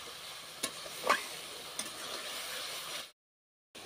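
A spice paste for a Bengali wedding-style rui fish kalia is sautéed and stirred in a pan, giving a steady close sizzle with a few scraping clinks before the sound cuts off briefly near the end.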